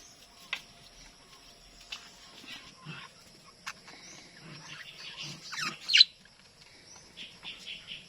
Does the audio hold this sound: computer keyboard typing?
no